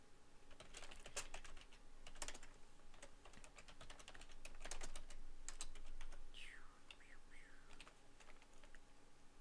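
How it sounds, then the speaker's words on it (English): Fast, close keystrokes on a computer keyboard during a streamed editing session, irregular bursts of clicks with brief pauses and a faint high chirp near the end, no speech over it. "So let me just type up this definition"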